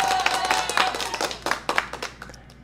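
Clapping for a viewer during a live stream, a loose patter of claps that swells early and trails off into scattered taps over a couple of seconds, moderately near.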